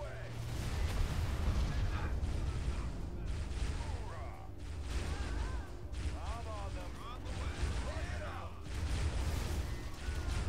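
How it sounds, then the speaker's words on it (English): Halo Wars rockets launch in repeated rushing, booming volleys, loud and dense with short swells and dips, layered with game battle noise. "Rockets away!"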